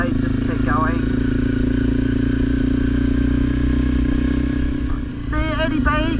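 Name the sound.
adventure motorcycle accelerating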